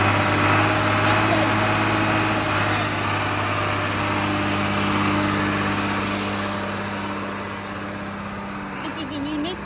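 A 6.8 liter John Deere diesel engine idles steadily on a 1995 American Road Machinery ALC-25 towable leaf collector, a constant low rumble with a whining drone on top, loud and close throughout.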